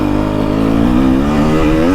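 A KTM 300XC two-stroke dirt bike engine lugs at low RPM, a loud, close, steady drone with a slight rise and fall in pitch and no voices over it.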